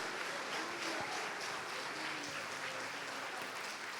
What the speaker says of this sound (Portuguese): Pode aplaudir e glorificá-lo.